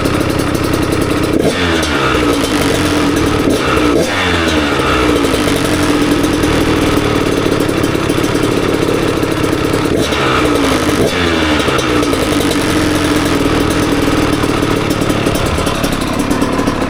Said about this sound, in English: Nothing better than 2-stroke smoke. I'm going to flip the throttle a little bit.